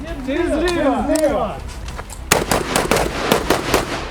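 At a recruit firing exercise, a voice calls out briefly, then a string of sharp rifle shots cracks out in quick succession, loud and close with echoing tails.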